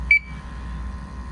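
A single short, high beep from an MSA Altair 5X gas detector near the start, clear and close, followed by quiet background hum.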